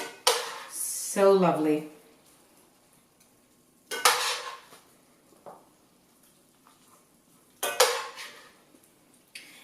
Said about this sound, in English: And put in the Brussels sprouts with that lovely taste of maple